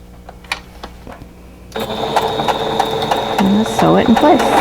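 Sewing machine stitching a quilt block for a fox goose patch, a steady mechanical whirring run starting partway through after a few quieter clicks and handling noises, fairly close.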